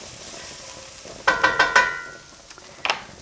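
Onion and garlic browning in a pan for a lentil curry: a steady sizzle broken by a quick run of four metallic stirring clinks, then a few softer scrapes, fairly close.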